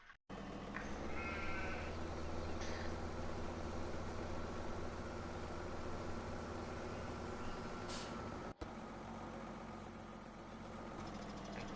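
Sheep bleat a few times over a constant low engine drone, the calls short and fairly close against the steady rumble.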